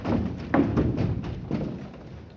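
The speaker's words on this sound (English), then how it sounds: "Cease that knocking." Knocking at a door in a full-cast audio play of Shakespeare's Macbeth: several dull, muffled thuds spaced out irregularly, somewhat distant and heavy, with no voices over them.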